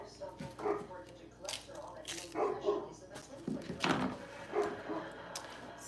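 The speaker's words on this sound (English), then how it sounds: "My dogs are barking because the neighbors are doing something." Dogs bark in short scattered bursts indoors at moderate distance, with household clatter and talk around them.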